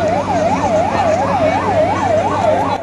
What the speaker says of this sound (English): Ambulance sirens blare out at the site of the collapsed tunnel in Uttarakhand state in northern India